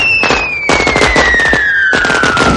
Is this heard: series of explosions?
yes